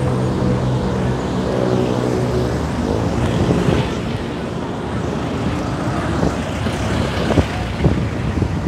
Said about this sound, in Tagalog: Yan, dami sasakyan ngayon.